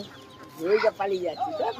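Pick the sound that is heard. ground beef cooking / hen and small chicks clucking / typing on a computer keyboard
hen and small chicks clucking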